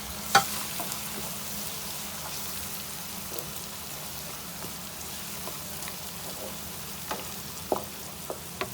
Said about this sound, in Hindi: आलू डाल के भून लेते हैं इसको 1 मिनट तक।